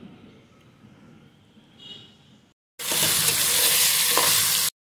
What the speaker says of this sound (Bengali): কচুর ছড়াগুলো দিয়ে এখন একটু কষিয়ে নেব।